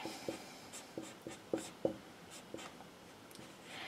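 Pen strokes from someone writing out an equation by hand, giving a series of short, close scratchy taps spaced irregularly in a quiet room with no talking.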